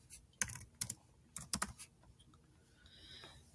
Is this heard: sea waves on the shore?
no